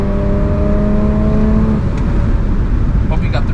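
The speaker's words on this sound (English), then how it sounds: "I really wanted the downshift so people at Brunchen could hear the car" A Mercedes W124 E36 AMG cabriolet drives on the Nürburgring, its engine note loud and close with a steady pitch that shifts as it downshifts, and wind and road roar fill the background.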